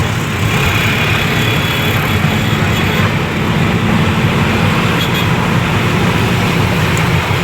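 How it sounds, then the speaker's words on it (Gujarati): A jammed road with trucks and cars makes a continuous loud rumble of idling engines and low droning traffic noise, with no clear pauses. "full traffic jam full"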